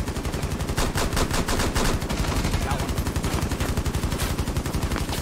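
Rapid, continuous pistol fire in Rainbow Six Siege, a dense stream of sharp shots repeating several times a second close up throughout, with faint voices underneath.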